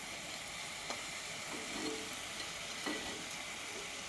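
Peppers and vegetables fry in a pan for a Mediterranean vegetable stew, a steady soft sizzle with a few faint clicks and stirring scrapes, close and quiet, with no voices.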